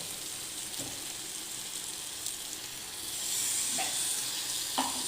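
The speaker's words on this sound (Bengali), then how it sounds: "আর একটু নেড়ে ছেড়ে এবার ফাইনালি জল দিয়ে দেব" Pumpkin and potato curry sizzling in a pan as water is added, a broad steady hiss that swells louder partway through, with a few soft spoon knocks and no talk.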